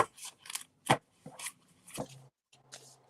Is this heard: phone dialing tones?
no